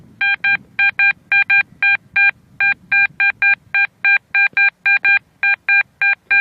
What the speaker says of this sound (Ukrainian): у мене отличний сигнальчик